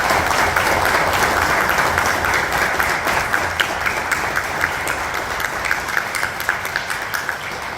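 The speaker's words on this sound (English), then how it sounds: "Let's give them a round of applause." Sustained applause from a seated audience at a county fiscal court meeting, honoring the CCHS band. Dense, steady clapping fills the room throughout, with slight sharp peaks and a gentle fade toward the end.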